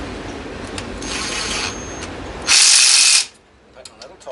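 A ratchet clicks while tightening 10 mm head bolts on a race lawn mower engine, a burst of close, loud ratcheting followed by quieter shop noise and brief handling sounds.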